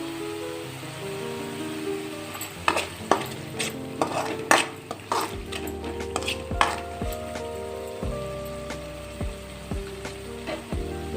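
Ingredients for tomato rice fry in oil in a pan: a soft sizzle runs beneath a spoon's irregular stirring and scraping clinks against the pan, with steady tonal background music throughout.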